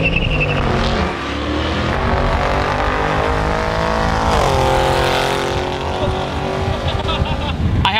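An Audi RS7 accelerates hard in a drag race against a C63 AMG, producing a loud, sustained engine roar with rising gear pulls and a shift near the middle, close and dominant with no speech.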